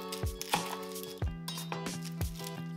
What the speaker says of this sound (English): Cut our small onion in half.